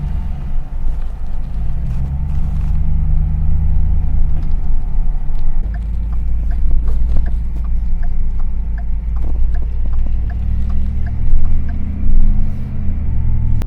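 A half-ton pickup truck drives while towing a 22-foot Flagstaff RV camper, heard from inside as a steady low road rumble with occasional clicks and rattles throughout.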